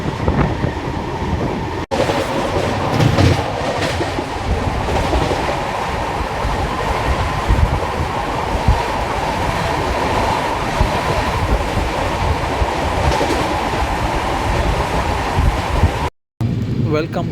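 The Swarnajayanti Superfast Express, train 12804, running at speed near Tuni station on a journey from Tadepalligudem, heard from inside as a loud, continuous rumble with steady clickety-clack over the rails and wind noise.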